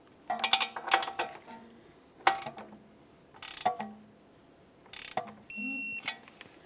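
A torque wrench tightens the outer tie rod castle nut on a 2003-2007 Honda Accord, giving sparse metallic clicks and ratcheting clinks in separated bursts, close and fairly quiet.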